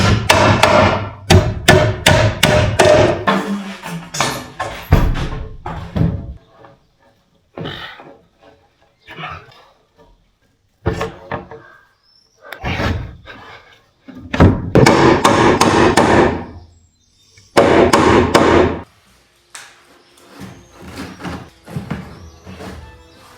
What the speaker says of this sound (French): dans les sabots, je mets les clous au fur et à mesure